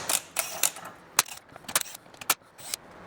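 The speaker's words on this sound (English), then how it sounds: "I'm going to start by removing all these bolts and hardware." Six bolts and hardware being removed by hand from a steel chassis bracket on a VB Subaru WRX, giving a quick run of sharp metallic clicks and ratcheting taps, close and irregular, with no talking.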